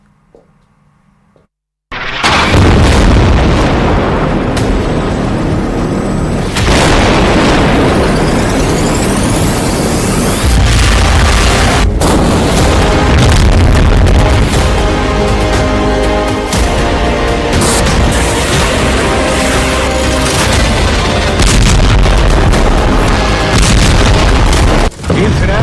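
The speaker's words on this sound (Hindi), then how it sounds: "इजरायल का बम गाजा में फटता है" Loud booming bomb explosions in Gaza burst in after a brief near-silence, then continue as a heavy, sustained roar with repeated sharp impacts throughout.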